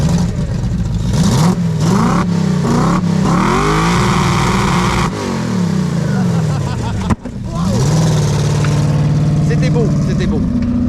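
Ford Mustang engine revving hard during a burnout, loud and close, with repeated rising and falling revs, a brief cut near the end before roaring again, and people talking over it.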